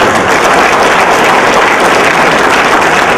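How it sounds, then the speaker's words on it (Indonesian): An audience at a science appreciation symposium in Terengganu breaks into loud, dense applause, sustained clapping from many hands that fills the hall evenly with no voices over it. "kena tepuk lah pada tuan-tuan"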